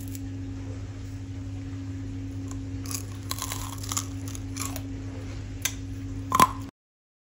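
Crunchy Nigerian corn kokoro snack being bitten and chewed up close, with a few sparse, sharp crunches over a steady low background hum and no talking.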